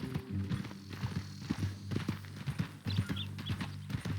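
Horse hooves clip-clopping at a steady walking pace in Red Dead Redemption 2, a series of distinct close hoofbeats over a low ambient bed, with faint game sounds and no clear talk.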